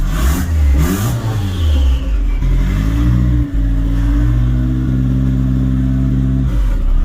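A turbocharged Nissan Hardbody pickup engine revs hard against two-step launch control, a loud, close, sustained roar that holds at a steady pitch after an initial rise and a brief dip.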